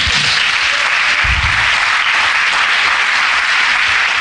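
A church congregation applauds steadily and loudly, dense clapping filling the whole stretch without letting up.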